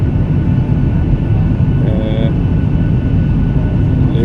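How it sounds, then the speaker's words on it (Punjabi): An airplane on a flight from Abbotsford descending to land at Edmonton, a loud, steady, close roar of engines and rushing air throughout, with a brief whining tone in the middle. "ਜਹਾਜ਼ ਉੱਡ ਰਿਹਾ ਤੇ ਨੀਵਾ ਹੋ ਰਿਹਾ ਹੁਣ ਤੇ ਨੀਵਾ ਹੋ ਰਿਹਾ"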